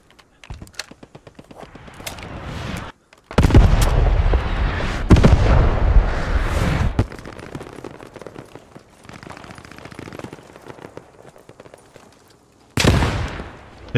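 Grenade blasts and rifle fire in the World War II shooter Squad 44, on a North African desert map: bursts of loud booming explosions with scattered crackling shots between them, fading and then returning with one last blast.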